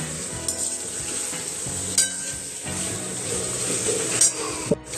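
Chicken sizzles and fries in a pan with a steady hiss, punctuated by a few sharp clinks and scrapes of a utensil.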